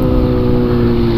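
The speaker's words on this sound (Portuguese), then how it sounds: "Foda-se esse escapamento aqui que aguenta muito." Exhaust of a Honda Hornet motorcycle with a chrome pipe, a loud, steady low rumble held close and continuous throughout, with no voices over it.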